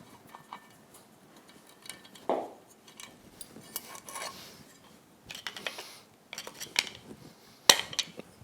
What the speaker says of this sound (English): Let's go ahead and get our prop off.